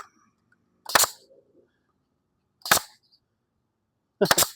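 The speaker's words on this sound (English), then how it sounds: "I think my staple gun shoots too hard." A staple gun fires three sharp, loud snaps, spaced a couple of seconds apart, while fastening grass screens for a chicken enclosure.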